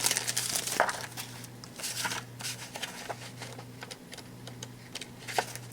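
Green paper is handled and crumpled for a mixed media collage, giving soft, continuous crinkling and rustling with a few sharper crackles, close but quiet, under a low steady hum.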